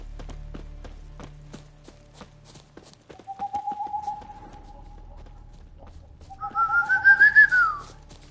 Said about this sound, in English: That was a loud whistle.